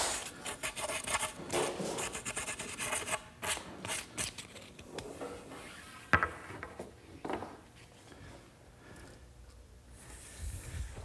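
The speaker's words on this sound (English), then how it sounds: "just a couple little burrs on the edges, which I can knock off with a piece of sandpaper" Sandpaper rubbed by hand along the edges of a small wooden colonial fence piece to knock off burrs, giving repeated short rasping strokes, close and fairly loud, with no talk.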